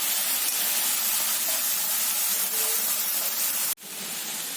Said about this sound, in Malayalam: നല്ല ഉള്ളിയും ഇഞ്ചിയും പച്ചമുളക് അരിഞ്ഞെടുത്തിട്ടുണ്ട്. നമുക്കിത് നല്ലോണം വഴറ്റിയെടുക്കാം.